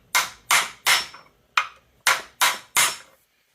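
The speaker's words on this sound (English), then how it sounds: "Need something to hammer that against." Sharp metallic hammer blows strike a part while a front mount shifter is installed: seven close, loud, evenly spaced impacts with one longer pause in the middle and quiet between strikes.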